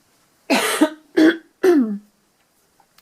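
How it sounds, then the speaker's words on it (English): Three separate harsh coughs, close and fairly loud, spaced about half a second apart, followed by near silence. "I'm coughing all day long."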